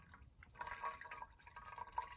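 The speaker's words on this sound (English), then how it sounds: "Let me just dump out all the water real quick." Water pours and trickles out of a ceramic pet drinking fountain for cats, faint splashing and dripping with a few brief bright drops, quiet and close.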